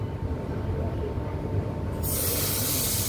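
A train pulls out of a station with a steady rumble and rolling wagon noise, then a broad hiss swells near the end. The sound is close and moderately loud, with no talking.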